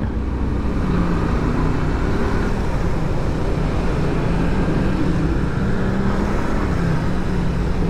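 Continuous road traffic noise on a flooded street near Amparo, a dense steady hum of vehicle engines and tires through water, loud and close with no distinct passes standing out.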